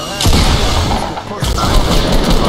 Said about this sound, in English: Where are they shooting you from?